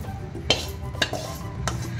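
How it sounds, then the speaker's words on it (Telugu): Moringa leaves being dry-roasted in a pan until crisp, with three distinct scraping stirs of a spatula over a low, steady background rustle, close by and with no voices. "చూడండి, ఇలా కరకరలాడాలి ఆకంతాను. ఇలా అయ్యే వరకు ఇలా వేయించుకోవాలి."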